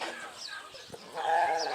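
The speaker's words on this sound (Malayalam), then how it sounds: "ഇവിടെ വേറെ ടൈപ്പ് ആട്" A goat of an unusual breed on an organic farm in the UAE gives a couple of nasal bleats, close by against faint farmyard background.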